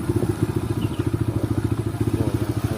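A motorcycle rides in at Bukit Mabar in West Lampung, its engine thumping in a quick, steady pulse close by, loud and unbroken with no talk over it.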